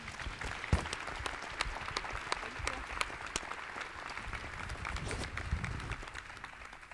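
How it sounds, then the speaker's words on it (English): Steady applause from an audience for a panel, many hands clapping at a moderate distance for several seconds, with a few louder claps standing out. "please join me in giving a round of applause to"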